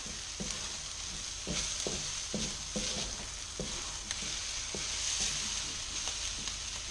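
Egg fried rice cooks in a hot pan, giving a steady, close sizzle and hiss with recurring soft scrapes and stirs at a fairly even rhythm throughout.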